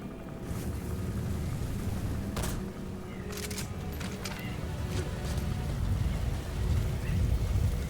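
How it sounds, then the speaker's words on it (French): Sandstorm wind in Metal Gear Solid V: The Phantom Pain, a dense roaring rush of windblown sand with scattered sharp cracks and gusts, steady and loud throughout. "La tempête de sable, on va bien en profiter."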